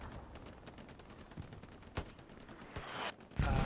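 Gunfire from multiple rifles in Hell Let Loose, a 49 v 49 World War II battle at Elsenborn Ridge, with steady distant shots and a few sharper, louder cracks building toward a dense volley at the end.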